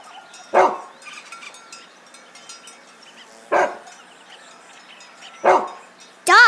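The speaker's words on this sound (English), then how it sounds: "Dog." A dog barks in single loud, close barks spaced a couple of seconds apart, with light background noise between them, and a higher yelp-like cry at the very end.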